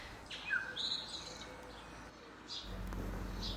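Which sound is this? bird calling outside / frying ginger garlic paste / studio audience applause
bird calling outside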